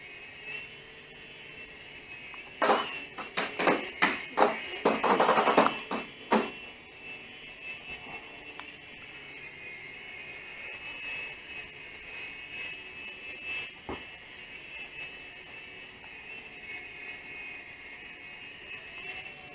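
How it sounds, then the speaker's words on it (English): A GoolRC Explorer remote-control toy helicopter flies with a steady, high-pitched motor whine throughout, while a cluster of sharp clattering knocks comes early on, near and fairly quiet. "There we go, helicopter flying over Tokyo."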